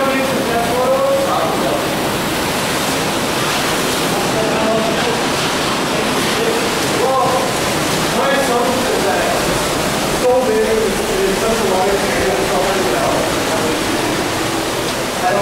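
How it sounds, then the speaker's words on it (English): Water pours steadily beneath a frozen waterfall, a constant loud broadband rush with no breaks, while people talk faintly over it now and then. "See the water rushing up here."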